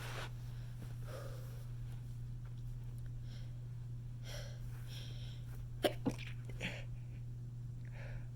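Stifled sneezes from a person with a cold, a few short muffled bursts and snorts over a steady electrical hum, quiet and close.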